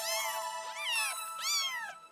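A cartoon cat meows three times in quick succession, bright, rising-and-falling cries that are close and loud against a silent background.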